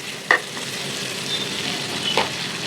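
A sizzler sauce with Kashmiri chilli cooks in a pan for a hilsa fish sizzler, giving an even, close sizzle with a couple of brief knocks from stirring and no talking.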